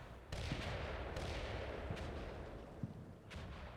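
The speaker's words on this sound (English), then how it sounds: "Artillery hit those guys, couple more casualties." Distant artillery fire in the Cold War tactical wargame Combat Mission Cold War, BAOR setting: a steady rumbling bed broken by a few separate muffled impacts, some sharper thumps near the end, with no voices.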